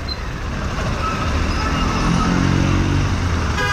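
Busy road traffic on the Mumbai–Goa highway, NH 66, a close, steady rumble of cars, buses and trucks rolling past.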